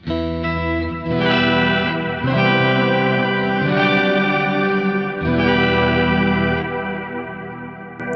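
Electric guitar played through a Kemper Profiler with a POG octave pitch shifter, the shifted octaves louder than the dry tone, ringing as sustained chords that change every couple of seconds with chorus-like shimmer and reverb.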